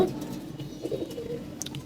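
Pigeons in a home loft cooing in low, soft, overlapping murmurs that run steadily throughout, fairly close, with a few brief higher chirps near the end.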